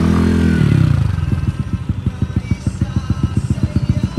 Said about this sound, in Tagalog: At sabay-sabay ding umalis yung dalawang NMAX na B1.